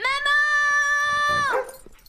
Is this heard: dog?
yes